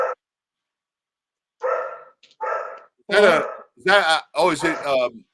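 A golden retriever barks at home, two short bursts followed by a louder run of barks, fairly close with nothing else around them.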